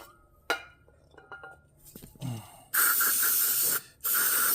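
Aerosol brake cleaner sprayed onto a 2023 Genesis G70 front brake caliper, preceded by a few metal clinks and knocks, then two loud sustained hissing bursts close by.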